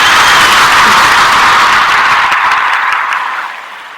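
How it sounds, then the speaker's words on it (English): Loud, dense applause from an audience at a community event, a steady wash of many hands clapping that fades toward the end. "I had to give the round of applause for that."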